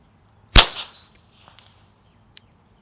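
One sharp, cracking gunshot from a .22 rifle fitted with a Bowers Group Bitty silencer, close and loud, with a short decay and a few faint clicks afterward.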